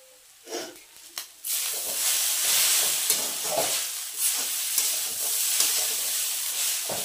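Chowmein fries in a hot pan with kasuri methi added, giving a steady close sizzle and hiss broken by several scraping stirs.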